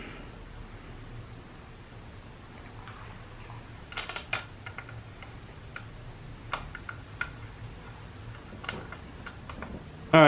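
Bolts being torqued on a Dodge Ram 2500 47RE automatic transmission during a rebuild, sparse light ticks and clicks close by over a quiet hiss, with a few sharper clicks toward the end.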